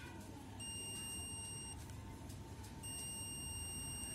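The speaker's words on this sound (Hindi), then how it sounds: "मल्टीमीटर बजर में रख के इसे चेक करना है।" A multimeter set to buzzer mode beeps during a continuity check on a Bluetooth speaker board, giving two steady tones, the first held for about a second, the second after a pause, over low background hum.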